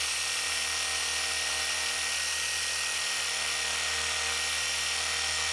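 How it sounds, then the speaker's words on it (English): Aggressive 3-inch car polisher with a 12mm orbit running on the paint of a BMW G80 M3, a steady loud buzzing hum with a constant low throb, close and continuous throughout. "I'm dealing with a 3-inch polisher that's pretty aggressive. With a 12mm orbit."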